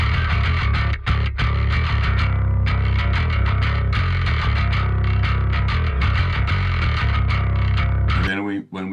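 Overdriven bass guitar recorded through a Clean Byte preset, thick distorted notes played continuously and loudly with a gritty edge, ending with a brief sliding tail.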